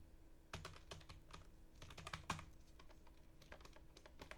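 Fingers tap at a computer keyboard in quiet, irregular bursts of clicks, close by and fairly soft, with no one speaking.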